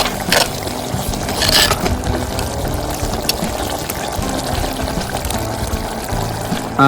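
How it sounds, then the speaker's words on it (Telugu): Water poured into a pan of simmering green zucchini curry, a steady broadband splashing and hissing that runs close and fairly loud throughout, with a few brief sharper bursts near the start. "మనం తగిన నీళ్ళు వేసాం కాబట్టి మళ్ళీ మూత పెట్టుకుందాం"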